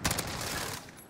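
Gunfire in Call of Duty: Modern Warfare, a rapid burst of automatic shots with a dense, rattling roar, loud and close, lasting about a second.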